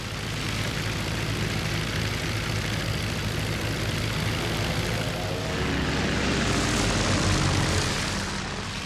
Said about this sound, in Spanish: El Jasta II, la escuadrilla comandada por Oswald Bölke, acaba de despegar para su quinta misión del día.